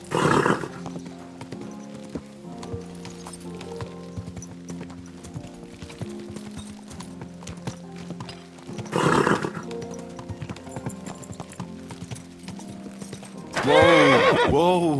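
Hooves clip-clop steadily beneath a soft musical background in Kingdom Come Deliverance 2, broken by loud horse whinnies near the start, middle and end.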